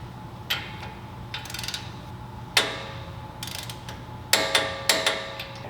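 A ratchet torque wrench tightens the upper ball joint bolt to the knuckle on a GX460 fitted with Elka suspension, giving close, sharp bursts of rapid ratchet clicking in several separate strokes with pauses between them.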